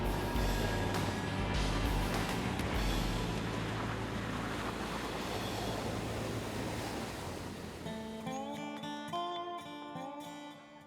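A RIB boat races across Lake Ontario with loud rushing water and wind buffeting the microphone. The roar eases toward the end as quieter tonal sounds come in.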